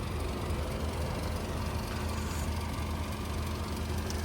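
A 2011 Skoda Octavia A5 with the 1.4 TSI engine idles smoothly, a steady low hum with a faint even whine holding at constant level throughout, no voices.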